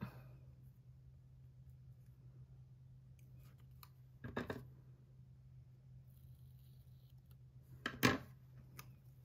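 Scissors cut a paper planner sticker in two short, crisp snips several seconds apart, against a quiet room with a faint steady hum.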